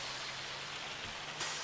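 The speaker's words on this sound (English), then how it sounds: "It's hailing. There's a lot of hail on Saxingham at the moment." Hail falling in Farming Simulator 25, a steady dense hiss of pattering ice over the whole stretch with no voices.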